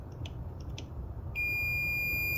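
A multimeter gives a continuity-test beep on a circuit board inside an Amico Power 3-in-1 welder: one steady high electronic tone that starts abruptly and holds, following faint clicks of probes against a quiet background hum.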